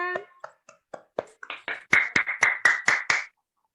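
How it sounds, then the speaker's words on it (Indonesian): A class of schoolchildren claps hands in a short burst, starting as scattered uneven claps and building into a louder, faster rhythmic run of about a dozen sharp claps before stopping abruptly. "Tepuk tangan buat kita semua."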